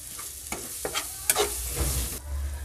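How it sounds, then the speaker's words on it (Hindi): Spinach paneer sizzles in a pan while coriander powder and a packet of magic masala are stirred in, with scraping strokes of a spoon heard over a steady frying hiss, close up and without talk. "ये दो टीस्पून हमने धनिया पाउडर डाल दिया है मैजिक मसाला एक पैकेट ये डाल देंगे इन सबको एक बार मिला लेंगे"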